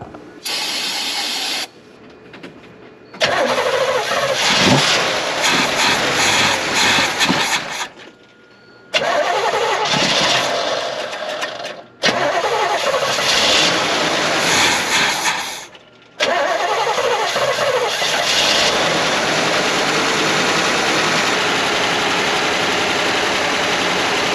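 A 1967 Camaro engine, fed from a separate fuel cell after a spray of starting fluid, cranks in several stop-start bursts with pauses between. It then catches and settles into a loud, steady run for the final stretch.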